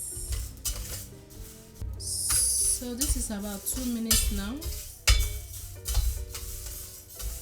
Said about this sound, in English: So finally, I'll be frying our millet.